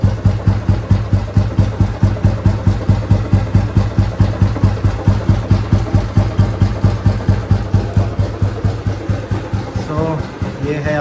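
A 1964 Royal Enfield Bullet G2 vintage motorcycle idles steadily with a loud, even thump-thump beat, close up and alone, its rhythm holding for the full stretch.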